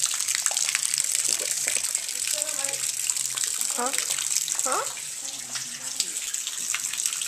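Steady rain with splashing water outdoors while a brown dog plays in puddles, a constant close wash of falling water with people talking over it.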